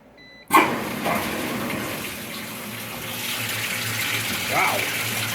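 Water rushes and sprays steadily into the hollow tub of a 2015 Speed Queen 8 Series washing machine after a sudden start, with a faint voice briefly heard over the splashing.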